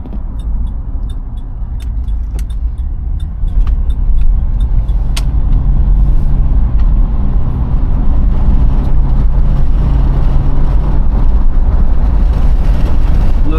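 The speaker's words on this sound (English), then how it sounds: "little bit of wind noise, but that's because I got the windows down" A 1996 Chevrolet Impala drives with its windows down, filling the cabin with a loud, steady rush of wind and road noise from start to finish.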